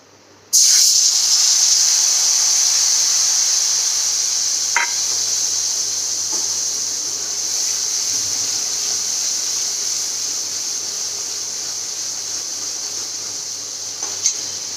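Spice paste for a fish-head and bottle gourd curry hisses and sizzles steadily in a hot pan, a loud, continuous frying sound with a few faint clicks, no talking.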